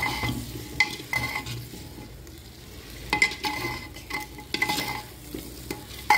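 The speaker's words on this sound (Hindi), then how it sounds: "इसको हम अच्छे से जो है मिक्स करेंगे।" Danthal (vegetable stalks) and potatoes are stirred and fried in a handi, giving steady sizzling with repeated scraping clatters of a spoon against the pot, close and clear with no talking.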